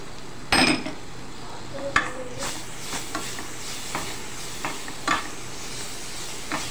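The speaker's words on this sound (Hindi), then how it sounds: "खूब अच्छे से हम इसे फ्राई करेंगे कि प्याज का कच्चापन निकल जाए।" Crushed onion frying with gram flour in a pan, a steady soft sizzle with occasional stirring scrapes and clinks of a utensil against the pan.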